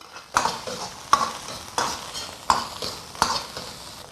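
Minced pork stir-fried in a hot wok with pickled chili, ginger, scallion and garlic, giving a steady close sizzle broken by sharp scraping stirs of the spatula about every three-quarters of a second.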